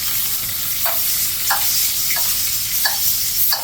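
Steak sizzling in a pan with brown butter, a loud, close, continuous frying hiss with a few soft periodic taps and stirring knocks, no talk.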